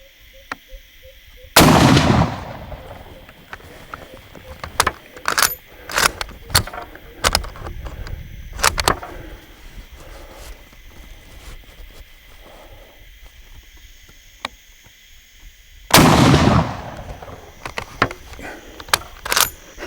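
A Mosin Nagant M44 carbine in 7.62x54R fires PPU 180 grain rounds outdoors at 100 yards, with two loud booming shots well apart and clicking, clacking bolt and handling noises between them.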